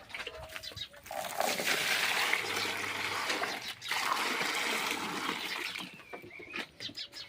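Water pours and trickles steadily for cows to drink in an Indian village, a continuous splashing stream with a brief pause midway, birds faint in the background and no talk.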